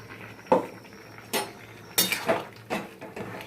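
Ground spice paste of coriander seeds, radhuni and ginger being added and stirred into shukto in a metal pot, a series of close, clattering spoon-on-pot knocks and scrapes at an irregular rhythm, with no talking.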